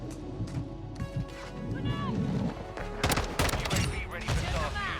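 Rapid automatic rifle fire and bursts in the video game Modern Warfare 2, loud and dense with sharp cracks and some impact clatter, mixed under a player's ongoing talk.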